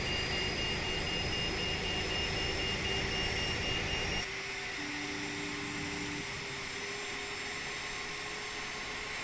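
Boeing 737 Classic jet engines in a flight simulator game, a steady roar with a high whine that drops abruptly midway to a quieter hum, followed by a brief low tone.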